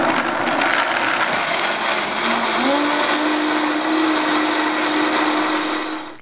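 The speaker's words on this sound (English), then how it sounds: "So we're just going to blend right now." A blender whirs loudly and continuously as it grinds almonds with water for almond milk, the motor pitch shifting partway through as the load changes, then cutting off at the end.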